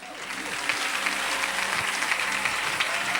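A church congregation applauding loudly, with dense, steady clapping throughout and crowd voices mixed in.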